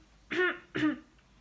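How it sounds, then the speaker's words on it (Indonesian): Two short, sharp coughs about half a second apart, close and fairly loud, with quiet between them and no talking. "tapi batuk dan bersinlah ke siku, seperti ini."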